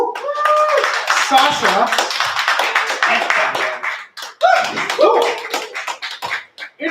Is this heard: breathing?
no